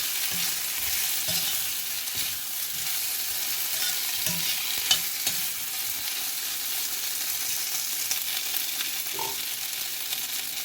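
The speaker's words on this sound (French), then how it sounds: "J'enrobe mes pommes de terre de mes graines de sésame." Potatoes stirred in a pan to coat them in sesame seeds, with honey and chili: repeated soft scraping strokes of a utensil over a constant light sizzle, close by.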